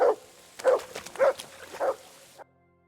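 A dog in the video game Kingdom Come: Deliverance II barks four times in short, evenly spaced bursts at close range, then the sound cuts off into silence.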